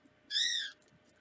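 A pet bird lets out a single sharp, shrill squawk lasting under half a second, close and fairly loud against a quiet room.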